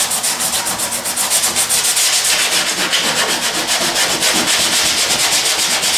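Steady, close rhythmic rubbing of sandpaper roughing up a car body panel for body work, even strokes continuing throughout with no voices.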